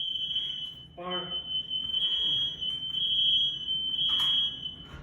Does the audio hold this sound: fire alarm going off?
yes